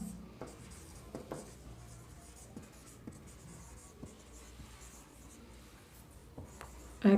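Pen scratching on paper while a math exercise solution is written out, with short intermittent strokes over a quiet room background and a sharper tap near the end.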